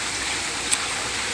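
Steady broadband rush of water falling from a pumped pond outlet in an aquaponics setup, a continuous even splash with no distinct pauses, moderately loud and close.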